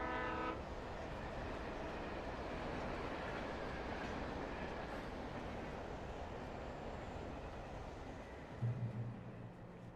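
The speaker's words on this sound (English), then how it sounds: "Train." A train in the video game Alan Wake rumbles past with a steady rolling roar and a horn blast at the start, the sound fading slightly before a low tone near the end.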